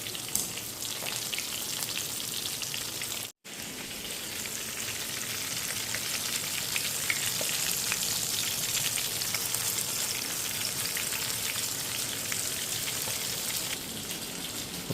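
Omani-style fish fries in a pan, producing a loud, steady, crackling sizzle close by that runs throughout, broken only by one momentary cut-out early on.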